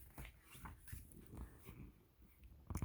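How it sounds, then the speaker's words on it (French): A dog sniffs and whimpers at close range in soft, irregular bursts of breathy sound, quiet overall, with a louder scuffle at the end. "Mais c'est un chien, ma parole."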